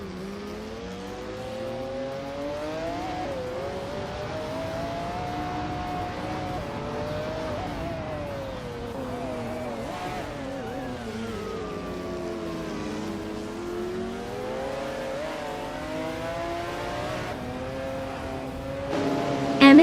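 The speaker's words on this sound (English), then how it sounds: "Skexisbo Prey is driving a 1993 McLaren F1T." A 1993 McLaren F1 race car engine in a racing video game drones steadily throughout, its pitch rising and falling with shifts and throttle changes, loud and continuous with no talk.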